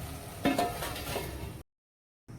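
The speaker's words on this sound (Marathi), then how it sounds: "इकडे शिजत आहे आपली मटकी" Sprouted moth beans (matki) cook in a pan, giving a close, steady sizzle with a few soft stirring scrapes before the sound cuts out abruptly, then briefly returns.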